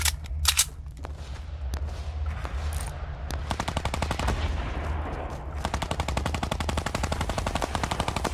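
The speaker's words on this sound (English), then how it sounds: "It's so hard to tell where gunshots are coming from in this game" Gunfire in a Fortnite battle royale match: loud rapid automatic bursts and scattered single shots, dense rattling volleys filling most of the span, close and sustained.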